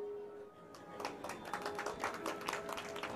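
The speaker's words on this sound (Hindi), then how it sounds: "सही से ताली बजाइए।" An audience at a religious discourse during the Prayagraj Mahakumbh breaks into clapping, a faint, uneven patter of many hands building after a brief quiet moment and continuing steadily.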